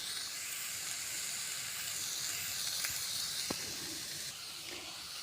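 Cauliflower gravy sautéing in oil in a pan, giving off a soft, continuous hiss and sizzle with a few faint pops, and no voices over it.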